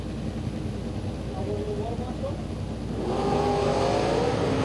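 A yellow wheel-standing Pontiac Firebird and another Pontiac launch side by side at a bracket drag race, a steady heavy engine roar that swells louder near the end, with an announcer talking over it.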